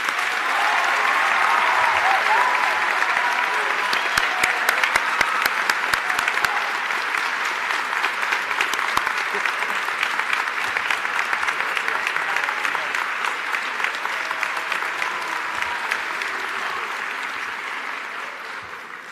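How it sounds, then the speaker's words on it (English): Sustained audience applause fills a high school graduation ceremony hall for the class of 2021, a dense, steady patter of many hands that holds throughout and eases slightly toward the end. "Let's give them a round of applause."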